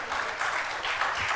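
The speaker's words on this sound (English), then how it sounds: "Give yourselves a round of applause." A Women in STEM event audience gives a short burst of even, moderately loud applause filling the hall.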